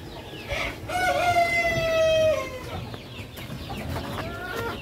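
Rhode Island Red breeder chickens on a free-range farm: a rooster crows loudly and close by, with clucking hens around it before and after.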